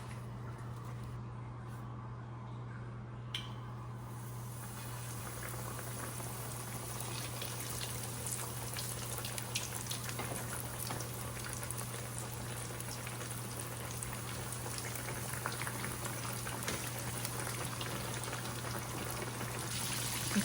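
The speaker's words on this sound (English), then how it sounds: "Okay, you're gonna let this fry" Fish frying in a pan filled a little under halfway with vegetable oil: a steady, soft, continuous hiss and crackle that grows slightly busier over time, with a low hum underneath and no talk.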